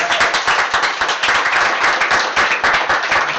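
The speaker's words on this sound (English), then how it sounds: "I think that deserves a round of applause." An audience at a gaming community town hall gives a round of applause, steady, close and loud clapping from a crowd that holds for the whole stretch.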